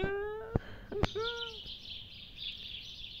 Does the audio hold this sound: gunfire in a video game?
no